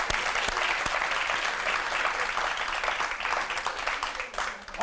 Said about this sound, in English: Please put your hands together once again.